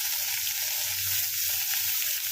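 Chopped onion hits hot oil in a pan while upma is being made, giving a steady, close hiss of sizzling that holds evenly throughout with no voices.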